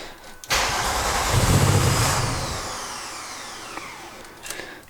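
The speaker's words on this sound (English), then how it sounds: "go back in the car now, prime the fuel pump a couple of times, and then turn the engine over" A Volkswagen Golf MK3 with a VR6 engine cranks and fires, then settles into a loud, slightly rough first idle that slowly quietens, heard up close with no talk.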